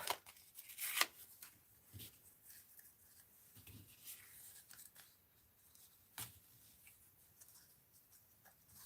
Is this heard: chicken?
no